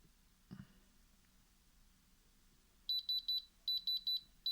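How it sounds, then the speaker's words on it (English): A gemstone tester set on a genuine ruby emits two quick runs of sharp, high electronic beeps, close and clear after a quiet pause with one soft knock. "It should go up to 9 and beep."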